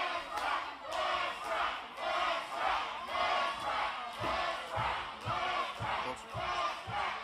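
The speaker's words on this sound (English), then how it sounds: "Listen to this crowd chanting" Wrestling crowd at an OVW NWA World's Heavyweight Championship match, chanting in a loud, steady rhythmic roar with regular beats, the whole arena carrying the chant continuously.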